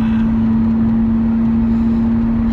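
Lamborghini Murcielago V12 running with a steady, strong droning tone, close and constant throughout, no speech.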